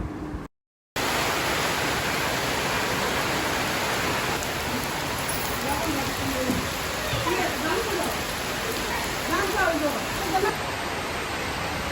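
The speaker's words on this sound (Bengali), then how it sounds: "বৃষ্টি টুকটুক করতেছে" Steady rain patters on a tin roof overhead, a dense, even hiss that runs throughout after a brief gap near the start, with faint voices occasionally underneath.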